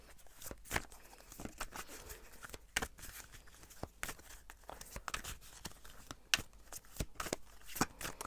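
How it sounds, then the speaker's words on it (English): Tarot cards being shuffled by hand, a series of quick riffles and soft slaps with brief pauses between bursts, close and fairly quiet. "But I'm going to shuffle a bit more."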